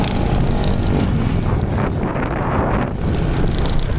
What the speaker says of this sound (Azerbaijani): Amma çox külək tutur